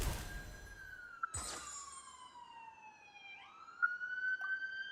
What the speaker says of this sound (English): Okay, I think the ambulance is gone.